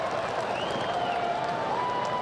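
Baseball crowd at a Royals game applauding a rookie's fielding play, a soft, distant wash of clapping and cheering sustained throughout under a faint voice.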